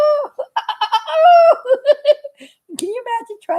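A human voice imitates a rooster crowing with an exaggerated, wavering call, followed by a second shorter crow, close and loud.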